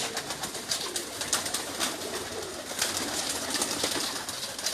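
Pigeons cooing nearby, a soft continuous murmur of low calls with scattered wing and rustling noises over steady background ambience.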